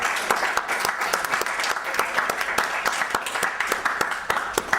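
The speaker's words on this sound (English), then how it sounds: "Yeah, give him a round of applause." Small audience claps steadily for a man at a social-skills session, individual sharp claps audible in a fairly close, lively round.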